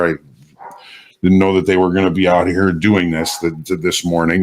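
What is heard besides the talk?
dog barking outside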